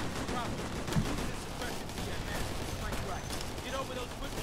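Rifle gunfire in the military shooter Operation Flashpoint: Red River, a dense crackling burst of shots over a continuous noisy battlefield din, loud and close.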